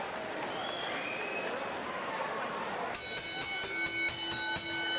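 Boxing arena crowd at a Gatti fight, a steady roar of cheering and noise throughout, joined midway by sustained buzzer-like electronic tones over the din.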